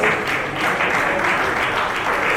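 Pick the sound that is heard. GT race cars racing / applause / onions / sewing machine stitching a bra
applause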